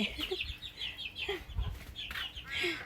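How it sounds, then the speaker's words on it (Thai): Chickens cluck repeatedly in short, uneven bursts, with a few higher chirps mixed in, against a quiet outdoor background. "ได้ยินเสียงนกเสียงกาเสียงไก่"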